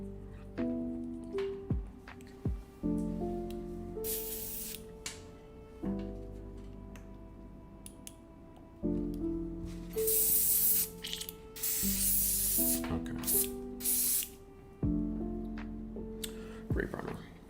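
An airbrush sprays gray primer in several short, sharp hissing bursts, separated by quieter gaps over a steady low mechanical hum.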